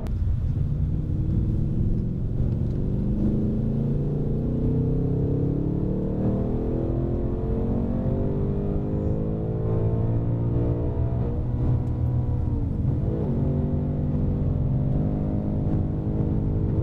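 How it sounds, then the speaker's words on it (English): A 2024 Ford Mustang Dark Horse exhaust in track mode gives a deep, continuous engine rumble, rising and falling as it revs, loud and close for the whole stretch with no talking. "You're gonna hear the exhaust note change."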